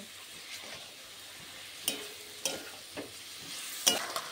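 Chicken sizzles in a pan with Kashmiri chilli powder and black pepper powder, a steady fry hiss punctuated by a few distinct scraping stirs.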